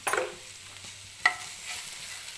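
Okra fries in a pan with salt, giving a soft steady sizzle under a few close scraping stirs, one sharper clack partway through.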